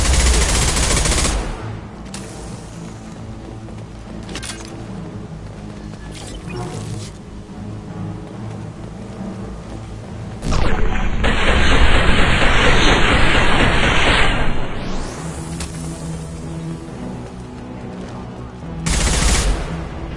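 Heavy gunfire in the shooter game Mass Effect 2, dense rapid bursts and sustained automatic fire, loud and close, with sharp dropouts between volleys and a final burst.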